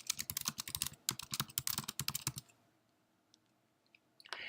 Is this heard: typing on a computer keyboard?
yes